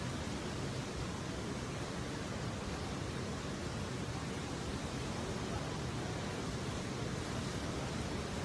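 Floodwater waves rushing over a bridge as a dense, unbroken roar that holds at an even level from start to finish, with no other sounds standing out.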